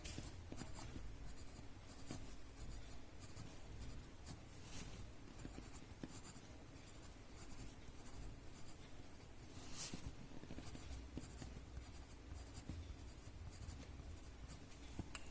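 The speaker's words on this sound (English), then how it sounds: "this is my blending stump, and I am just going to pull away the graphite" A blending stump rubs graphite across paper in steady, close scratchy strokes that continue for a long stretch, with no talk.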